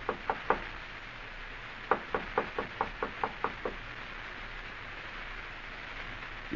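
Knocking at a door in an old-time mystery radio drama: three quick raps, a short pause, then a louder run of about eight evenly spaced knocks, close and crisp, with no voices.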